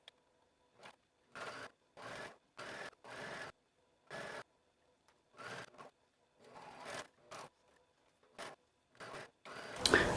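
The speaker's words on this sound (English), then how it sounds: "I'm going to use a serger." A serger sewing the final stitch line of a garment, running in a series of short bursts of fast buzzing separated by brief pauses, close and fairly quiet with no talk.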